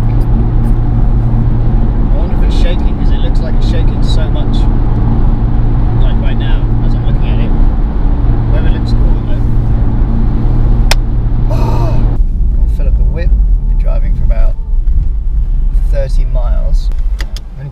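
A car cruising on a UK motorway heard from inside the cabin, with a steady loud road and engine drone throughout as passengers chat and cheer over it.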